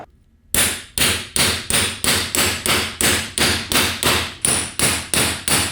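A socket hammered down to seat a T5 World Class transmission main shaft, about twelve loud evenly spaced metallic blows after a brief quiet start, close and ringing.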